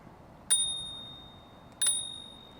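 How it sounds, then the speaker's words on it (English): Bell on an AMP Volt 750 step-thru electric bike, struck twice about a second apart, each a bright, clear ding that rings and slowly fades in a quiet setting. "this bike comes with a bell. Check it out."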